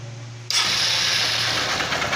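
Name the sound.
150cc motorcycle engine idling and revving with connecting rod knock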